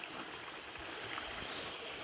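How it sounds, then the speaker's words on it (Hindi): A small mountain stream flowing along a trail, its steady broadband rush and gurgle of water continuous and fairly close, with no voices over it. "हमें रास्ते में एक छोटा सा गधेरा मिला हुआ है जिसमें पानी है"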